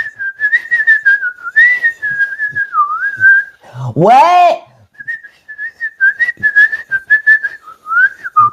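Someone whistles steadily in long, wavering notes near the microphone, broken by a sudden rising whoop in the middle, while a person speaks briefly under and between the tones.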